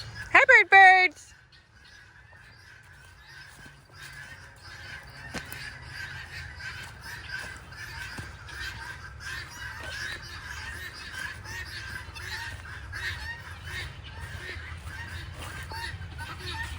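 Geese honk in a brief, loud burst at the start, then a long stretch of faint scattered calls and rustling carries on outdoors, with a voice nearby.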